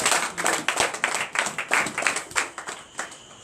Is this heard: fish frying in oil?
no